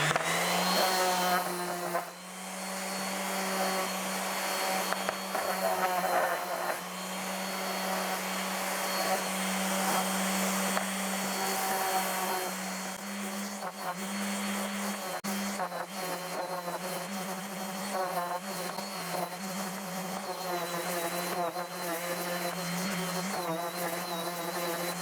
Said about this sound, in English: So they definitely need to be sanded, kind of clean them up before I paint them.